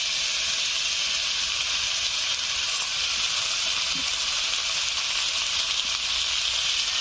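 Tomato and eggplant frying in a pan for a village-style small fish recipe, with a loud, continuous broadband sizzle and hiss that holds steady throughout, with no voices.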